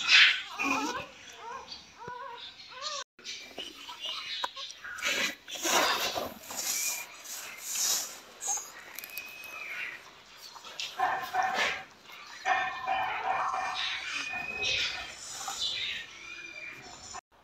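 A mother dog whimpers and yips softly near her newborn puppies, moved to a warm spot at home in Punjab, with short whines and barks close by while people talk in the background.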